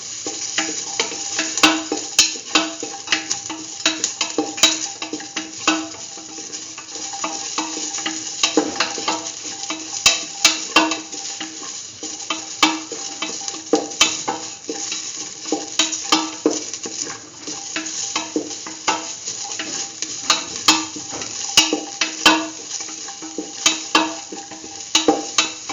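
Shallots, garlic, ginger and onions sauté in a pan for a kidney bean and chayote stew, a steady sizzle running throughout under frequent scraping stirs and clinks of a utensil against the pot.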